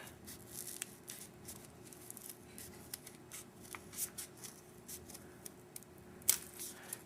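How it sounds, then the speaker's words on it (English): Scissors cut an arc into folded paper for a pumpkin decoration, a quiet series of small snips and crisp paper rustles with one sharper snip near the end. "And then cut another arc."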